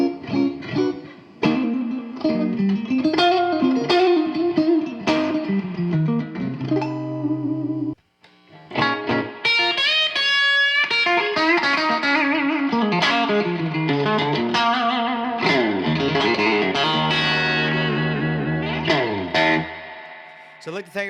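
An electric guitar plays a melodic line through a 1964 pre-CBS Fender Super Reverb tube amplifier, its tone warm and slightly distorted with reverb, the playing continuous apart from one brief pause.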